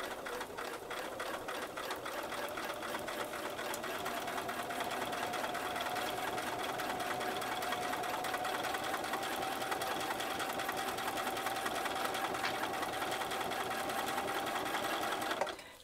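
A sewing machine stitches a zip bag with a long 3.5 stitch length, running as a fast, steady mechanical whirr with rapid needle clatter. It holds close and continuous for about fifteen seconds, then stops abruptly.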